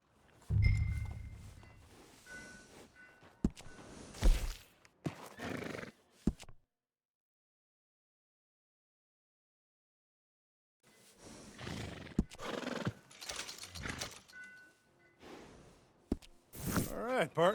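A horse at a stable in the game Red Dead Redemption 2 whinnies and stamps, with bursts of neighing and hoof sounds at the start and end and near silence between, over soft voices.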